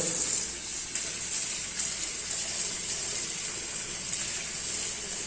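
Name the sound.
running tap water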